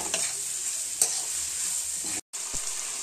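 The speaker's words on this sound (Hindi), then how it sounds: "अब इसको अच्छे से भुनेंगे सारे वेजेस को।" Mixed vegetables with mushrooms and garlic-ginger paste roasting and stirred in a pan, a steady bright sizzle with spatula scrapes, briefly cut off once, no voices.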